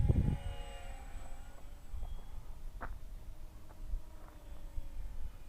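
A Volantex Ranger 600mm RC plane fitted with twin brushless motors flies at about half throttle, a faint distant motor whine over steady outdoor wind rumble.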